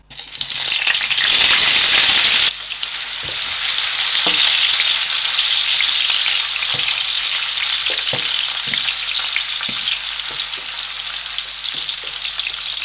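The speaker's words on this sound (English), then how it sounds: "So I'm going to add my sausages." Hot dog sausages dropped into hot oil on low heat burst into a loud, dense sizzle, then settle into a steady close frying hiss with occasional soft pops and clicks, no talking.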